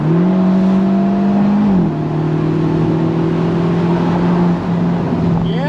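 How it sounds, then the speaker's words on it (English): Mercedes-Benz SLC 300 Final Edition roadster at full throttle, its engine note climbing steadily and loud, with a brief dip at a gear change before pulling hard again. "Get a little gas, hammer down."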